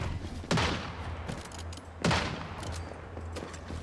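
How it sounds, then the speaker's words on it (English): Gunfire in the online survival shooter Once Human: two sharp, loud bursts about a second and a half apart over a steady low engine-like hum, with no talking. "You're so loud with your gunfire."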